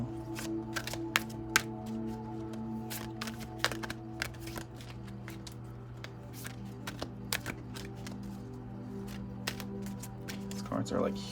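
Large tarot cards being shuffled by hand, a series of soft, quick papery riffles and taps at close range, fairly quiet over a steady background hum.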